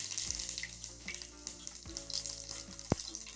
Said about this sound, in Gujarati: તેલ આપણું ગરમ થઈ ગયું છે તો આપણે અડધી ચમચી રાઈ નાખશું